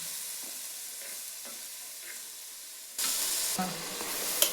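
Green turkey berries (sundakkai) sauté in a pan with a light sizzle and occasional stirring scrapes, then the frying suddenly grows into a louder, brighter hiss partway through.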